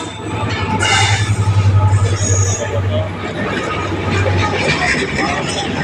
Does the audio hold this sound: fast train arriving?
yes